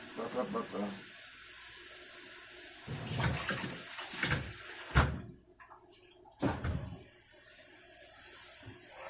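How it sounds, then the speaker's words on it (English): Tap water running into a container in a home kitchen while baking bread, heard in short bursts amid clatter and a door or cupboard bump, with a person talking nearby. "Gonna get some more water in the thing."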